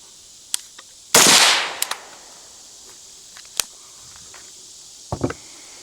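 A 5.56 rifle fires through a Dead Air Lazarus 6 suppressor, one loud sharp report followed by a short decaying tail, then faint clicks and a brief softer rattle near the end.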